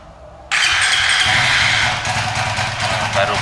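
A Suzuki FU 150 motorcycle engine cranks and starts after a short quiet moment, then settles into a steady close idle. A person speaks briefly near the start.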